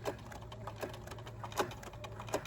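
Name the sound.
sewing machine stitching a body pillow seam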